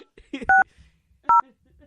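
Three short bursts of telephone keypad dialing tones, each a clear two-pitch beep spaced unevenly, with brief quiet speech-like sounds between the first two.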